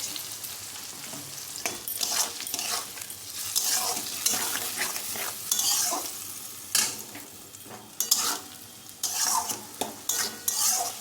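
Spice paste fries in a pan with a splash of water while a spoon stirs it, producing a steady close sizzle broken by repeated scraping strokes and clinks throughout, with no talking.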